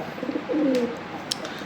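A male pigeon in a loft cage gives a single short, mellow coo, close by and clear over quiet room noise.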